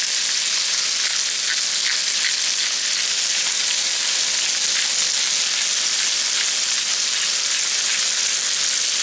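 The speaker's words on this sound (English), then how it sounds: "You fry those burgers in that bacon grease" Burgers fry in bacon grease in a pan, giving a loud continuous close sizzle with fine crackling and no voices.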